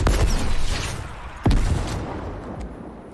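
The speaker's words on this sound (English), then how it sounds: "Legendary rocket launcher" A legendary rocket launcher fires twice in Fortnite, each launch a sharp loud whoosh-thump, the first at the start and the second about a second and a half later, followed by fading echoes.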